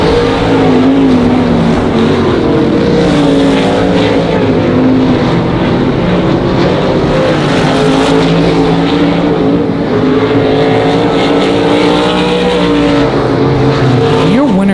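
Race cars roaring around Monarch Motor Speedway during a race, a loud continuous engine roar rising and falling as cars pass, with an announcer's voice over the public address throughout.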